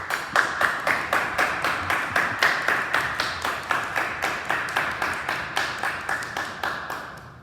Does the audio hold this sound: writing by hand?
no